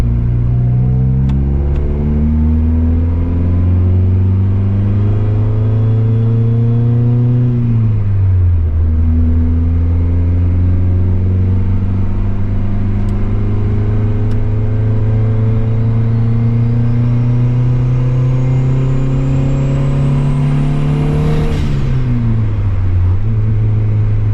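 Turbocharged Honda Civic with a GT3076R turbo pulling down the road, its engine droning loud and close, rising steadily in pitch through the gears with a drop at each shift and a faint turbo whistle climbing above.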